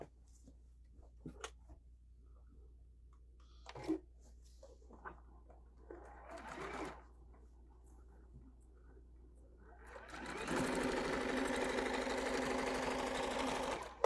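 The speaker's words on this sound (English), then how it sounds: "Let's go ahead and keep on sewing. I'm gonna base this down." A home sewing machine basting layers of a quilt-as-you-go table runner, with a few soft clicks and shuffles first, then a steady, loud run of rapid stitching that continues for the last few seconds.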